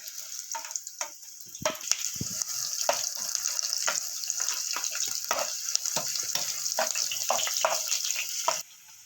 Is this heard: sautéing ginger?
yes